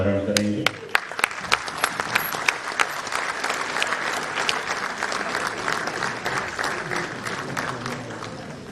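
Applause from the audience at a government ceremony marking an MoU signing on power supply for Jammu and Kashmir, a sustained dense clapping with sharp individual claps in the first seconds, steady and loud throughout.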